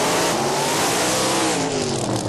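Drag racing cars at Motor City, a Willys and a supercharged outlaw, roar loudly in a sustained wall of engine noise with rising and falling tones, no voices heard.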